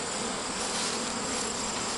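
A swarm of bees hums around freshly extracted comb from a bee tree outdoors, making a dense, continuous buzz with no voices.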